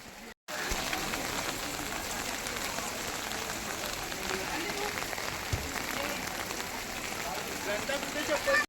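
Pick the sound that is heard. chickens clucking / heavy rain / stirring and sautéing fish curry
heavy rain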